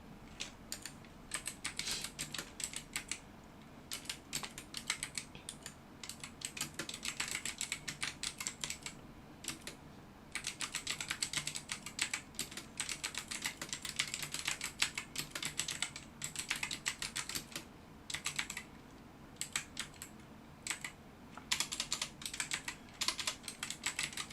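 Close, quiet typing on a computer keyboard while entering a footnote in a Korean word-processing document, rapid clustered keystrokes in irregular bursts with short pauses, no talking.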